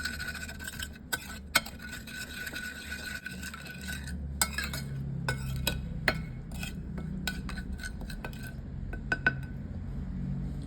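A spoon clinks and scrapes around a bowl while a quail egg larb mixture with lime juice is stirred, with sharp scattered taps over a quiet background.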